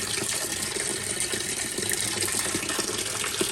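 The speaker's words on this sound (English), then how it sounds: "Way more water coming out of there." A strong, continuous gush of water pours from a washing machine drain hose, a loud, even rushing flow with small splashes and no voices.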